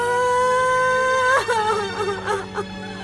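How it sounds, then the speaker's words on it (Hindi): A woman wails and sobs out in the street, a long moaning cry that breaks into shaky whimpering gasps, heard over a steady background drone. "रोने की आवाज आ रही है किसी की।"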